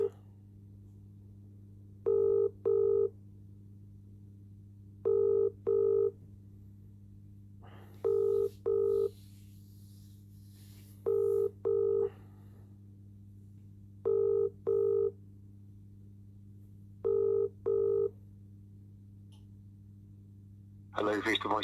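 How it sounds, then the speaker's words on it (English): A telephone ringback tone repeats in paired double bursts about every three seconds while calling a solicitor at DWF Law, clear and steady over a low constant line hum, with no talk. "Ringing up Jonathan Smith."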